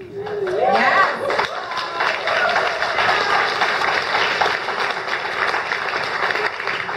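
An audience at a talk in Vancouver breaks into sustained applause, with dense clapping and some crowd chatter running steadily throughout, while a brief vocal sound rises near the start.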